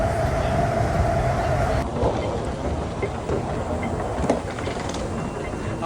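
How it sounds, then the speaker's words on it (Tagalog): A Hong Kong LRT light rail train rumbles steadily up close, a continuous low mechanical roar with occasional clanks and squeals, voices faint underneath. "So may LRT dito."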